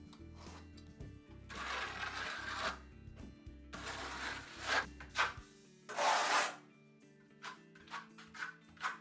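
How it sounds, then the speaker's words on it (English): A trowel edge scrapes and smooths joint tape on wall board, making repeated gritty rasping strokes of varying length, loud and close, with short pauses and a few lighter scrapes. "applying your tape and smoothing it down with the edge of your trowel."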